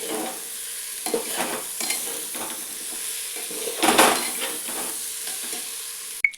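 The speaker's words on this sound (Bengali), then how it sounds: "এবার দেখুন এটার সঙ্গে ডালটাকেও আমি ভালো করে মিশিয়ে দিচ্ছি।" A spoon stirs lentils with spices in a pan for a Bengali khichuri with cauliflower, giving repeated scraping strokes over a soft sizzle, close and fairly quiet, ending with a sharp clink.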